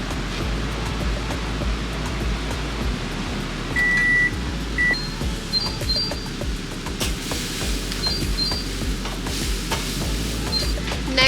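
Chopped red bell pepper goes into a hot pan, setting off a steady close sizzle and frying hiss with occasional stirring scrapes and faint clinks, and no one talking.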